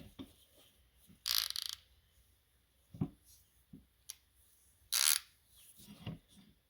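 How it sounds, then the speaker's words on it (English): A crescent wrench works a bolt on an antique combine, giving a few sharp metallic clicks and scrapes, close and fairly quiet, spaced out against near silence. "So we're going to take the impulse off here and put a crescent wrench on that."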